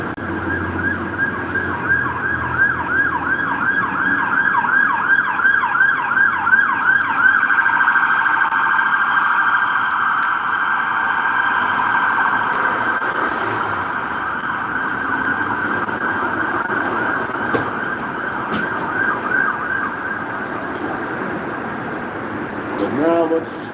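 Emergency vehicle sirens wail on a city street, a rising and falling wail that gives way to a long steady tone, loud and close under intermittent voices and street noise.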